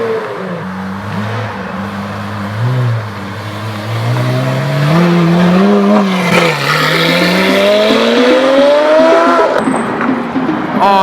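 A Lamborghini Aventador SVJ with an aftermarket exhaust revs on a Tokyo street, its engine note climbing and falling in loud, sustained sweeps that swell toward the end, with a faint voice in the background.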